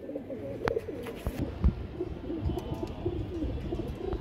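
Pigeons coo in low, soft, repeated murmurs at close range, several birds overlapping, with occasional wing flutters and light clicks.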